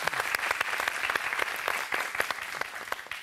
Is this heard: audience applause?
yes